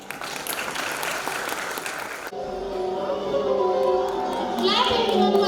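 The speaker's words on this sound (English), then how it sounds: "Let's clap for them." At a preschool annual function, an audience claps in a brief burst for about two seconds, then the applause gives way to children's voices and chatter in a lively hall.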